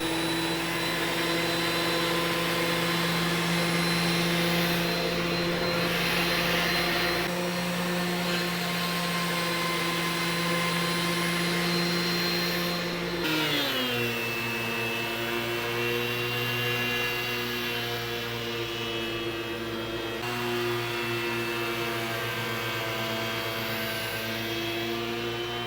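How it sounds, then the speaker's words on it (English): A benchtop planer planing a glued-up board runs with a loud, steady whine and hum throughout, its pitch dropping partway through as the cut loads the motor, with no voices. "I have my benchtop planer all set up and we're ready to plane this down"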